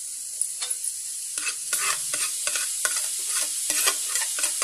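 Grated carrot stirred into roasted semolina and coconut in a pan for carrot peda, with repeated scraping, scratchy strokes of a spoon over a steady frying hiss, close and loud, no talk.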